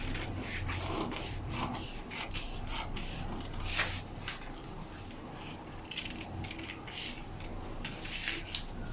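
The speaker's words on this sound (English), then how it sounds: "So in cutting, I'm following my new armhole." Scissors cutting out dress fabric along a drafted armhole and shoulder line, repeated close snipping and rasping of blades through cloth with rubbing and handling noise, steady and continuous.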